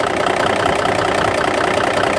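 A Cummins 444XT big cam diesel engine idles close up, skipping from bad injectors. The exhaust gives a steady, dense, rough rumble with a fast uneven beat throughout, and no talk is heard.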